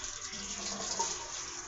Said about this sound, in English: Ooh, that water is too splashy.